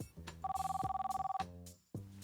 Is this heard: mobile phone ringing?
yes